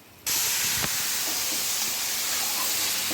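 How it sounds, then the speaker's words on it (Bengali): Marinated chicken hits a hot pan and erupts into a loud, sudden sizzle, then a broad, steady hiss that holds unbroken close up. "এবার আমি এই যে ম্যারিনেট করে রাখা চিকেনটা এর মধ্যে দিয়ে দেবো।"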